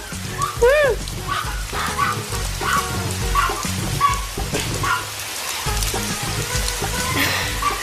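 A puppy yelps and whimpers in high, wavering cries over a constant wash of rain, with a voice speaking Tamil at times.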